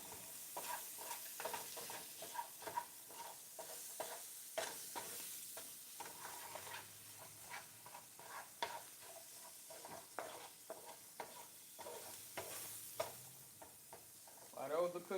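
Vegetables cook in a pan for a shrimp and tomato pasta, a faint sizzle under repeated scraping and stirring clatter, close up and quiet, with no talk.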